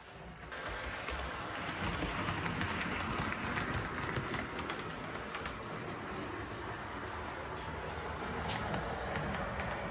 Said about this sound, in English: we'll take it for a wee spin around the track